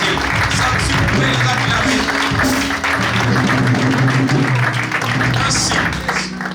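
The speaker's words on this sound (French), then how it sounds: "Si vous pouvez acclamer, si vous pouvez les encourager." A crowd at an art exhibition opening claps steadily and loudly throughout, with some cheering and a few voices mixed into the sustained applause.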